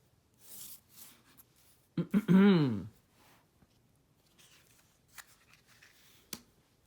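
A playing card slaps and slides onto a pile during a game of Follow Me (Accordion) solitaire, one brief close scrape among light tapping and card handling, with a voice talking quietly around it.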